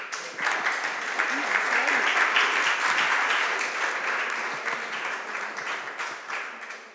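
Audience applause at an Italian art event honouring a restoration: steady clapping from a crowd, swelling in the first seconds, holding, then slowly thinning toward the end, with faint voices underneath.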